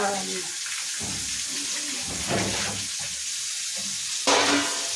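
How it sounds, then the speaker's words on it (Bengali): Fish heads sizzle loudly in hot oil with salt and turmeric, a steady close hiss broken by a few clattering stirs and bursts of spattering. "তেলে নুন আর হলুদটা দিয়ে দিলাম, মাছের মাথাগুলো ছেড়ে দিলাম।"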